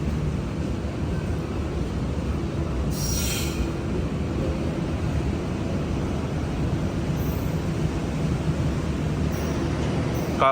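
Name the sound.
Arjuno Express train at a Surabaya station platform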